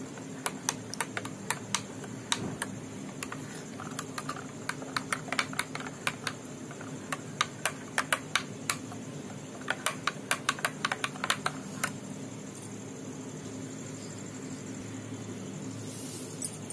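A spoon stirring homemade guava juice in a glass, giving a fast run of bright, rhythmic clinks against the glass for about twelve seconds before it stops, leaving a quiet room hum.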